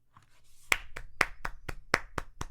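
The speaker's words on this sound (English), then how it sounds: "That's me clapping." A single person claps by hand at home, about eight sharp, fairly close claps in a quick, slightly uneven rhythm that starts faint and then rings out clearly, with no talking.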